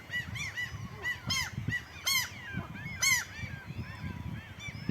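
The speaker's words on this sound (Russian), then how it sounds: "Чаек тут море. Орут вон." Seagulls cry near their nest: many harsh, overlapping calls and squawks repeat close by over low background rumble and noise, with no one speaking.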